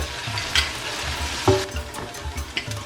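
A Ghana cabbage stew base frying in a pan, a close, constant crackling sizzle broken by a few sharp utensil knocks against the pan.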